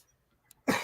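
One abrupt, close, harsh cough bursts out after near silence and lasts to the end.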